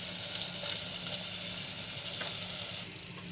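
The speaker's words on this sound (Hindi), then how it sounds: "ये देखिए आलू डाल दिए मैंने" Potatoes frying in a pan for a dahi aloo curry, a close, steady crackling sizzle with small pops and stirring scrapes that softens slightly near the end.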